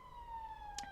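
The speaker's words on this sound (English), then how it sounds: "Sorry for the siren in the background." An emergency siren wails steadily in the background as a sustained tone, with one brief brighter burst near the end, moderately faint and with no talk.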